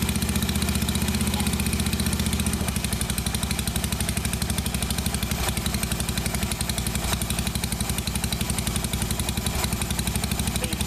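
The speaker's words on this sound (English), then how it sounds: "I'm going to get this bike started, hopefully without too many dramas" A Yamaha SR500 single-cylinder motorcycle engine runs steadily and loud throughout, with a fast, even mechanical clatter; a brief change in tone near the start suggests it settling into idle, and no one speaks.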